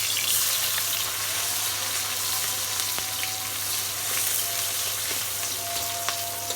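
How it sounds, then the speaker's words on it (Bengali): Onions fry in hot oil in a kadai for a fish curry, giving a steady, close, crackling sizzle that continues without pause and with no talking. "কড়াইতে তেল দিয়ে দিব প্রথমে দিয়ে দেবো পেঁয়াজ"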